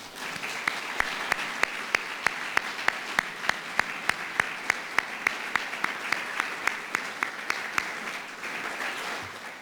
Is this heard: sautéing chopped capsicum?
no